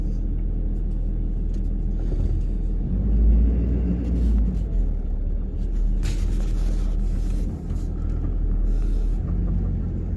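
A vehicle, likely a truck towing a last scrap load, rolls out of a junkyard at night: a steady, loud low engine rumble with road noise that swells briefly midway, no talking.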